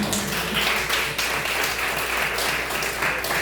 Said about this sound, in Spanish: Vamos a dar un aplauso al Señor Jesús.